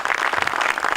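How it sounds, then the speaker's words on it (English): An audience at an awards ceremony claps for a speaker coming forward, a dense and fairly loud patter of many hands that carries evenly through the moment with no talk. "please do give him a hand of applause and make him welcome as he comes forward"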